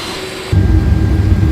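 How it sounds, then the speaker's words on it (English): Inside the cabin of a KLM Airbus A330-300 taxiing to the runway, a steady airy hiss suddenly gains a heavy low rumble partway through, loud and continuous. "just taxiing to the runway here."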